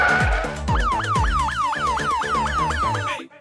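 A wailing ambulance-style siren sound effect sweeps up and down in a steady rapid cycle, loud and close, layered over a rhythmic electronic beat from a Sprunki and Incredibox game setting, then cuts off abruptly at the end.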